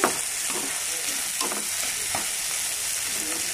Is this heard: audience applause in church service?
no